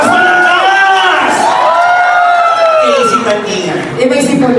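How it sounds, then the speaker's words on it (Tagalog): A large crowd shouting and cheering loudly and without a break, with many voices whooping and screaming together and no clear gaps. "Marinig mo nga yung palakpakan at sigawan?"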